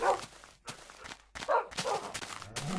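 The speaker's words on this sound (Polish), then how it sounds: "I to jest pies i on atakuje wszystkich" A dog in the Minecraft video game barks a few times in short, separated bursts at moderate loudness, with soft footstep-like clicks between them and no talking.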